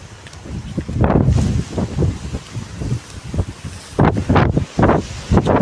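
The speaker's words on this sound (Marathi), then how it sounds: "वारा जास्त सुटलाय" Strong wind on a hillside buffets the microphone in loud, uneven gusts, roaring and rustling with short lulls between blasts.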